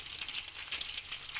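Beef koftas sizzle steadily as they fry in hot oil for a kofta curry, a continuous close crackling hiss with no voices.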